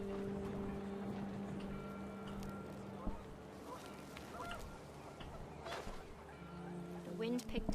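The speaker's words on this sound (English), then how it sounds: "The wind picked up and panicked geese appeared and quickly went." Panicked geese honk in the video game What Remains of Edith Finch, giving drawn-out nasal tones amid gusting wind, fairly faint and mixed with a speaking voice.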